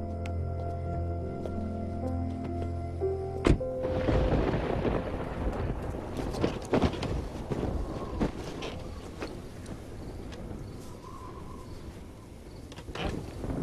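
Thunder rumbles and strong wind gusts roar through a storm, a broad continuous wash of noise swelling after a quieter opening, with occasional sharper cracks.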